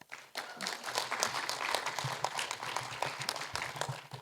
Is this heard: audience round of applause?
yes